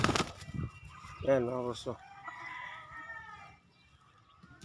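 A hen of the Sweater breed clucks in a small backyard chicken coop, a few short harmonic calls near the middle among other faint chicken sounds, with someone talking briefly at the start.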